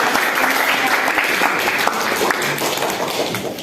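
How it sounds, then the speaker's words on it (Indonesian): A classroom group gives a student a round of applause. Many hands clap at once in a dense, continuous burst that holds steady for several seconds, then begins to fade near the end. "Beri aplaus untuk Zainal."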